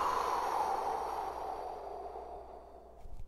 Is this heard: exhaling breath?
yes